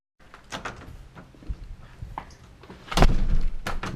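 Door opening with a thunk and clatter as someone steps through, at the start of a road trip in a boosted 1991 Miata; close, with a louder knock near the end and scattered handling noises.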